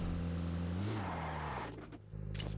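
A car engine in a video game revs with a rising then falling pitch over a couple of seconds, followed by sharper mechanical bursts.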